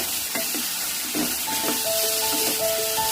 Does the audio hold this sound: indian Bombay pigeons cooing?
no